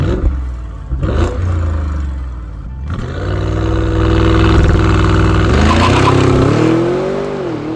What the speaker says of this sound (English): The exhaust, even in factory form, is throaty.